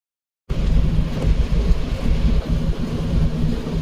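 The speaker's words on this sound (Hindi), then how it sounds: "झमाझम बारिश हो गई है" Heavy rain with thunder at Mehtab Bagh in Agra, a loud steady broadband roar of downpour with low rumbling, starting abruptly after a half-second of silence and continuing without talk.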